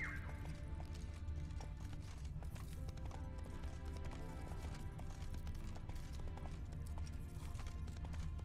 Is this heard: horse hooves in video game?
yes